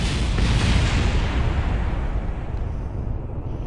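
Rocket stages separating and exploding in the space game Kerbal Space Program: a broad roaring rumble of blasts and engine noise that stays loud and slowly thins toward the end.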